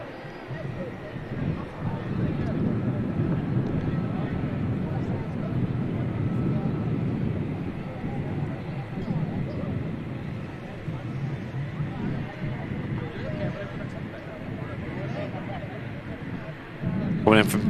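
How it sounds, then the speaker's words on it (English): A Saudi Boeing Dreamliner arriving from Jeddah on approach to Manchester Airport, a continuous low engine rumble mixed with wind buffeting on the microphone, with talk running over it. "We usually do finish on this Saudi Dreamliner"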